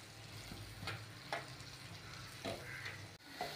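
Agri masala being stirred and mixed in a hot pan, a soft continuous sizzle with a few scraping spoon strokes, faint and close.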